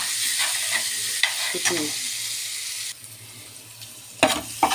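Eggplant frying in a pan, a steady sizzle with occasional stirring scrapes and clatters, close and fairly loud; a voice speaks briefly.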